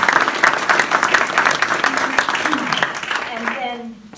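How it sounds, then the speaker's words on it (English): Audience applause at a community meeting, a brisk clatter of clapping that thins and fades out near the end as talking begins. "will you give a round of applause to our"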